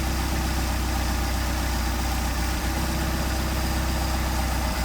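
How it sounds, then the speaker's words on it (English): A Mercedes 190SL with Solex carburetors idles with a steady, loud, continuous engine drone while the idle mixture screw is adjusted and the RPM picks up slightly. "Adjusting our idle mixture screw a little bit more. Notice we picked up some RPM."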